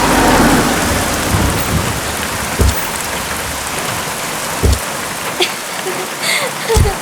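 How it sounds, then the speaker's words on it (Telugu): Steady heavy rain pours down while low thunder rumbles through it, punctuated by several short thumping bursts. "వానొస్తున్నట్టుంది."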